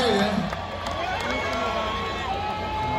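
Large concert crowd cheering and roaring at a show by the ocean, a loud, continuous wash of voices with whoops rising out of it across the whole stretch.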